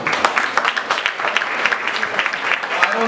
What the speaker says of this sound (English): a big round of applause for Nissan as well